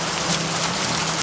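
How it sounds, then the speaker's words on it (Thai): A brief burst of heavy storm hail, a steady loud wash of pellets drumming on surfaces close at hand with no pauses. "โอ้ลูกเห็บลงครับลูกเห็บลงตกอย่างแรงเลย"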